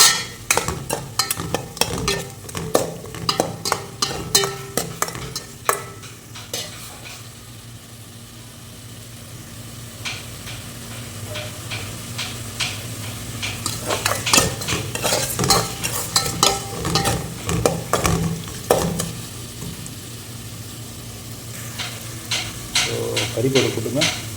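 A spoon scrapes and stirs vegetable upma in a sizzling pan, with repeated clattering strokes and soft frying underneath, while a person talks intermittently over the cooking.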